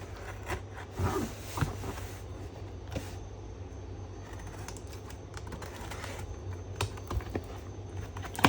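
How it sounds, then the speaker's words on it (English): Knife cutting through the tightly sealed packaging of an iVANKY FusionDock Max 2 box, scattered scratchy clicks and rasps over a steady low room hum. "I'm now opening the box. Let me cut first. Let me cut it through."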